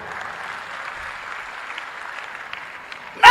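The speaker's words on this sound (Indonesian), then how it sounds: "Beri tepuk tangan yang meriah buat Tuhan" Congregation applause at a church Christmas celebration service in Padang, a steady broad patter of many hands at moderate level, ending in a sudden loud burst at the close.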